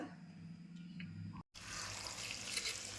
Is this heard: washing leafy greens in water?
yes